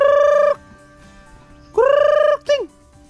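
Loud, close chicken calls: two long drawn-out squawks followed by a brief clipped one, with quiet background noise in between.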